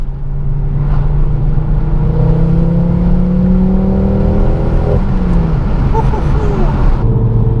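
A Mk2 Ford Focus RS engine revs and drones loudly, pitch climbing and then dropping, with small popping burbles near the end.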